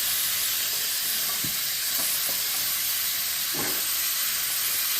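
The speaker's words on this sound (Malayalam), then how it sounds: "പിന്നെ ആദ്യം എണ്ണ ഒഴിച്ചു. അതിൻ്റെ അകത്തേക്ക് നമ്മൾ ഉള്ളി ഇടുന്നു." Onion sizzles in hot oil in a pan, a steady bright hiss with a few soft stirring knocks, close and continuous with no talking.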